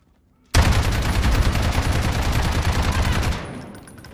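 Gunfire from the video game Call of Duty Modern Warfare (2019) bursts in after a moment of quiet, a loud, dense, continuous volley of shots that holds steady for about three seconds before easing off.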